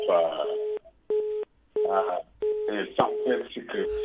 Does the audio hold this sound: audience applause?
no